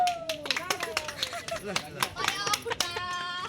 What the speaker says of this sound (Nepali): ताली बजाउनु